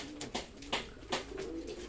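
Pigeons or doves cooing close by in a short burst, several soft repeated coos with brief bird calls mixed in, outdoors with light background noise and no talking.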